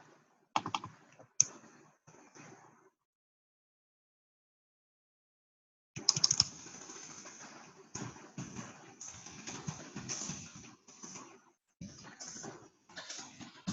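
Typing on a computer keyboard: bursts of quick, close clicking keystrokes, broken by a silent pause of a few seconds, then steady irregular tapping resumes.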